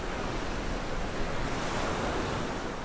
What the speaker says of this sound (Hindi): समुद्र के किनारों से टकराती हुई मौजें